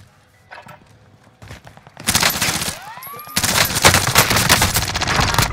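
Gunfire in Call of Duty Warzone on Rebirth Island, dense crackling bursts that start about two seconds in and run loud to the end, layered with other game effects.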